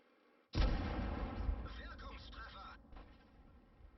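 Tank gun firing in World of Tanks, with a sudden heavy boom that rolls into a long, loud rumbling decay and cuts off sharply, over quiet background.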